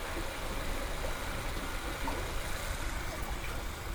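A new hot tub recirculation pump with an intake hose runs continuously, a soft, even motor hum with a washy rushing of water as it primes and starts flowing, fairly quiet and close.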